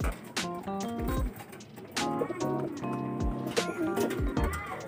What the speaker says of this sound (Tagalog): Ayan yung mga ibon natin mga kalapatids